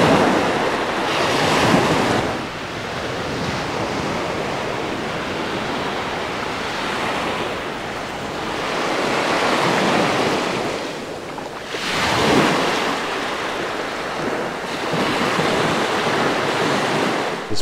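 Ocean waves wash onto a beach on Waiheke Island, New Zealand, a loud, continuous roar of surf that swells and recedes in broad surges, mixed with heavy wind buffeting the microphone.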